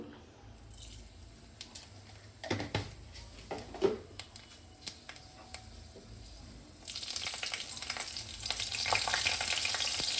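Quiet clicks and small taps at first, then a sudden burst of sizzling as five-spice seeds and green chillies hit hot oil in a wok, frying steadily to the end.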